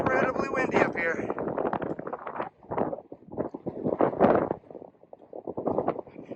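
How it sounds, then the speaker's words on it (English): Strong wind buffets the microphone on an exposed mountain summit in the Great Smoky Mountains, with loud, gusty rumbling bursts that rise and fall throughout while someone talks. "It is incredibly windy up here."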